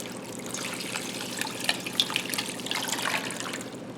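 Water pours steadily into a pot of peach pits and peels nearby, a continuous trickling gush with small splashes and a rising, hollow tone.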